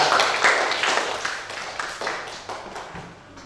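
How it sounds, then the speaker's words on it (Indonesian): A classroom of students claps for a presenting group, a dense burst of applause that starts loud and gradually thins and fades over a few seconds, with no talk over it. "Ya, tepuk tangan untuk kelompok 3."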